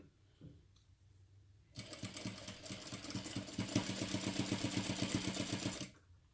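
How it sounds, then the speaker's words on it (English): Sewing machine stitching a half-inch seam on a crossbody bag, a steady rapid mechanical whir with rhythmic needle clatter running for several seconds after a brief quiet handling noise. "then sew at 1/2 inch seam allowance"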